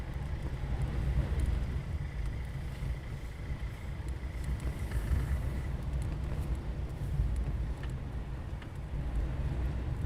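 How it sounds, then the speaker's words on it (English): Eurofighter Typhoon jets at RAF Coningsby sit running before taxiing, a steady low engine rumble heard from a distance with wind buffeting the microphone and no voices. "More getting ready to taxi. I can hear the engines running."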